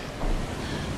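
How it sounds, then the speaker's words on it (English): Rushing waterfall water in the Planet Zoo video game, a dense, continuous roar with no breaks, fairly loud and close, with no voices over it. "We're gonna go over the waterfall!"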